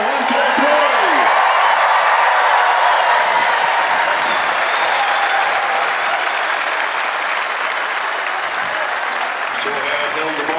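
Loud, sustained applause and cheering from a large crowd at a world championship tree felling contest final, a dense roar of clapping that runs unbroken for several seconds.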